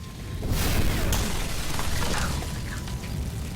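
A window shatters in a film scene and a fire-driven explosion follows, a sudden loud crash of breaking glass with a booming rumble that settles into a sustained low roar.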